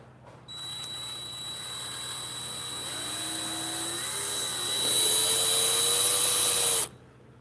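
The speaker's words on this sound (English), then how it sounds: "Let's see, where's my drill?" A power drill whirs steadily for several seconds during disassembly of a Ninja 250 motorcycle engine, its whine climbing slightly in pitch before it stops abruptly; close and loud, no talking.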